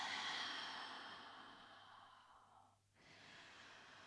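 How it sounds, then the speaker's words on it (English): A deep inhale followed by a long full exhale during a gentle yoga practice, soft airy breathing that fades into a brief quiet pause before resuming faintly. "Take a deep full breath in. And then exhale fully out."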